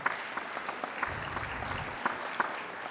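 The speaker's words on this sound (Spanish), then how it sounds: "un fuerte aplauso para la doctora Diana" Steady audience applause for a doctor, a pain-medicine surgeon, being introduced at a medical talk on acute pain management, a dense wash of clapping holding at an even level with no talk over it.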